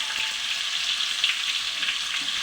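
Stuffed capsicum peppers fry in a little oil over a high gas flame, giving a loud, continuous crackling sizzle with no voices.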